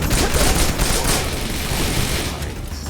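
Rapid gunfire in the video game Wanted: Dead rattles out as a loud, dense barrage of overlapping shots that fades slightly toward the end.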